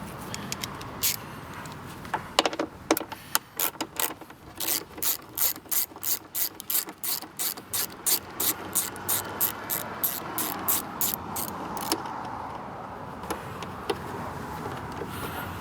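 A ratchet wrench clicks rapidly in steady bursts while loosening a 10 mm bolt on a 2008 Chrysler Sebring, close up and crisp, with brief pauses between strokes and faint background noise.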